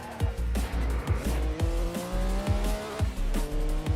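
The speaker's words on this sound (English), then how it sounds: "Ooh, big snap of oversteer there." A racecar on a flying lap with a chicane snaps into oversteer, giving a pulsing, stuttering engine note in quick repeated bursts mixed with tire squeal, close and fairly loud.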